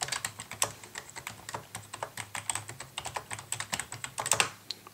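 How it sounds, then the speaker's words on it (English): Rapid, light keystrokes clatter in an uneven rhythm, close and fairly quiet, a steady run of typing on a Bluetooth keyboard connected to an iPhone 3GS. "Let's start typing."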